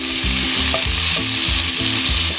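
Whole cumin seeds roast in hot oil with a loud, steady sizzle and crackle, the frying noise filling the pan evenly and close up with no one speaking.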